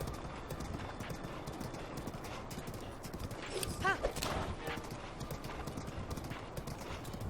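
Rapid, rhythmic hoofbeats of a galloping horse in The Legend of Zelda: Breath of the Wild, steady and fairly quiet, with a short neigh partway through and a faint voice in the background.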